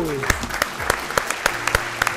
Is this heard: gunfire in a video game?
no